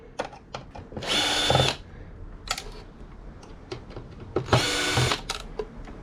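Power screwdriver with a new magnetic bit backing screws out of scrapped e-waste: two loud half-second whirring bursts of the motor, surrounded by scattered clicks and small metallic taps of screws and casing.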